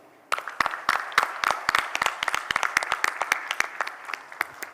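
Applause from a conference audience in an auditorium breaks out after a brief quiet moment, many hands clapping steadily with a few louder claps near the front, tapering slightly at the end.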